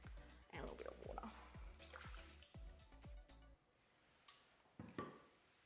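Water poured into a pork marinade in a Thermomix bowl gives a run of quick, regular dripping plinks, followed by a quieter stretch and a few isolated splashes, all close and soft.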